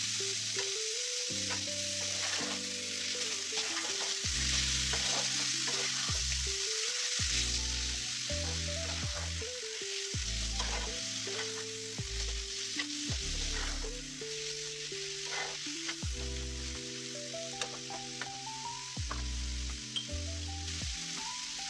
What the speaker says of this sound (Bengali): ওর মধ্যে দিয়ে দিলাম চিকেন কিমা। দিয়ে ভালো করে এটাকে আমি কষে নেবো এখন।